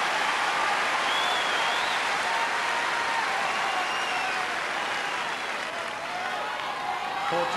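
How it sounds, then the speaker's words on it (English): Wimbledon tennis crowd applauding at match point in the 1998 fourth-round Henman versus Rafter match, a dense, steady roar of clapping and cheering that fills the whole stretch with a faint voice over it. "the noise from the crowd tells you that Henman has reached match point"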